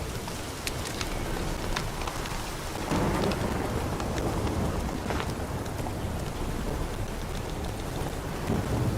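Steady heavy rain pours in the video game The Witcher 3, with thunder rumbling underneath and a louder surge of downpour about a third of the way in, continuing without a break.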